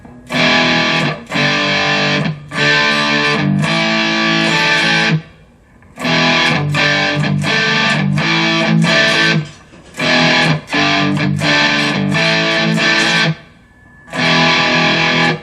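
Distorted cigar box guitar riff plays in loud repeated bursts separated by short pauses, gritty and buzzing throughout.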